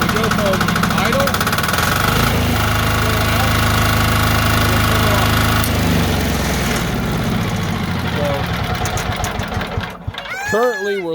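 A Timberking 1220 sawmill engine running at idle, a loud close rumbling chug with a knocking beat that holds steady for most of the stretch before dropping off near the end, with talk over it.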